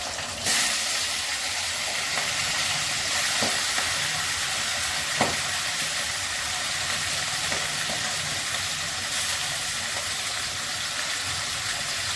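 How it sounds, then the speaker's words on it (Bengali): Dry red chillies and panch phoron spluttering in hot oil for a fish-head curry give a steady close sizzle and hiss, with a few faint clicks of spices popping and no talk. "শুকনো লঙ্কাটা আমি ফোড়ন করে দিচ্ছি। পাঁচফোড়ন দিলাম"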